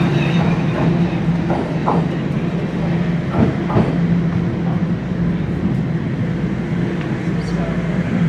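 A Toronto transit train departs the station, rumbling steadily on the tracks, with a low continuous drone and occasional clanks and rattles echoing around it, fairly close.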